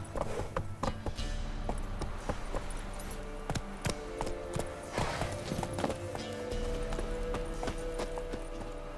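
Roach the horse galloping in The Witcher 3, with steady rhythmic hoofbeats clopping along at a quick pace over a low ambient hum, fairly close and without talk.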